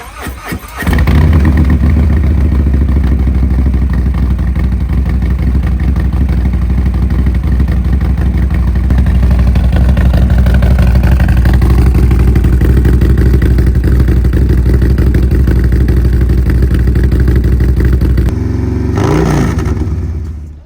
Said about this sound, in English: And this is what it sounds like now.